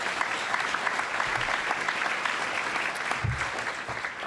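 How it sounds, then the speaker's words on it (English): An audience at an athletes-of-the-year awards celebration applauds an athlete with steady, dense clapping throughout, a couple of low thumps near the end. "Let's give Iris a round of applause."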